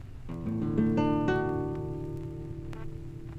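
A few plucked acoustic guitar notes ring out clearly, one after another, then sustain and slowly fade, with no voices.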